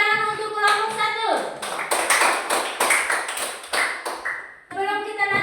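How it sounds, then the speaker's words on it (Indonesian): Pupils in a classroom clap their hands for group one, a brisk burst of close clapping lasting a few seconds, with children's voices sounding just before and after it. "Kita tepuk tangan untuk kelompok 1."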